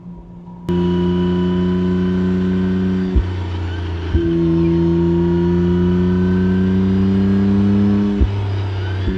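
A McLaren Artura Spider twin-turbo hybrid sports car engine idling and revving with a steady low drone, briefly dropping off twice before picking back up, close and loud.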